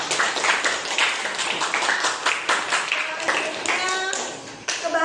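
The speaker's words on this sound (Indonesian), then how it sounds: "beri tepuk tangan dulu." A classroom of students claps for a classmate, a burst of quick overlapping hand claps that fades over a few seconds, with voices mixed in.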